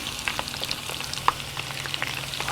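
Coconut shrimp and scallops sizzle steadily in a hot pan, a close, dense crackle with small pops and spits throughout, no voices.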